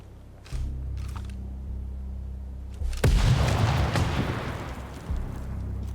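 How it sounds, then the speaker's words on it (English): Grenade explosion in the tactical shooter Ground Branch: a single sudden boom hits midway, followed by a rumbling, debris-filled decay over a low steady background hum. "Let me throw a grenade"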